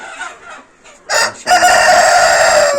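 Tiger breed chickens at a small poultry farm, with a rooster crowing loudly and close by over softer clucking from the flock.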